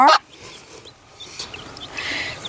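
A flock of chickens clucking and murmuring close by, opening with a sharp, loud squawk, then steady softer clucks that build again toward the end.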